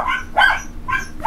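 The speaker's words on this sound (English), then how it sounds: "This is Little Mama and her litter of English Cocker Spaniel puppies." An English Cocker Spaniel mother with her litter of puppies barks three quick, close, sharp yips in a row, loud and alone.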